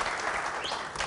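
A studio audience bursts into applause, a dense, steady wash of clapping hands close up that fills the short stretch with no break.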